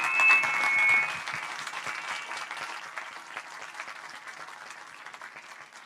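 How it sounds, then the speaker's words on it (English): A conference audience applauding panelists, a dense wash of many hands clapping that starts full and gradually tapers off over several seconds, heard from within the room. "Could we all join them in a huge round of applause"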